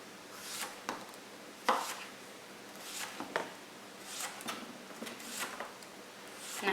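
A knife slices a zucchini into rounds on a kitchen countertop, producing a series of irregular, crisp cuts with soft taps against the board, fairly close and isolated from speech.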